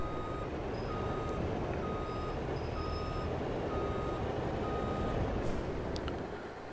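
In the Farming Simulator 22 video game, a vehicle backs up with a steady run of evenly spaced reversing beeps. They sound over a loud, constant engine drone and continue for several seconds without speech.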